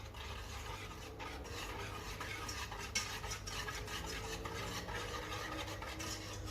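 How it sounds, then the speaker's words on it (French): A spoon scrapes and stirs a cold cornstarch mixture in a bowl for a lemon meringue tart filling, a steady soft rasping that continues without pause and without voices. "نحط 2 كويار دو مايزينا، زوج مغارف كبار تاع مايزينا. فوالا نخلطو توجور بارد بارد"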